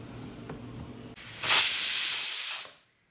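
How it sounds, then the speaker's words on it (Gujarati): A pressure cooker boiling moong dal lets out a loud hissing steam whistle that bursts in suddenly, holds for about a second and a half, then fades out. "હવે આપણે 1 વિસલ વગાડી લઈશું"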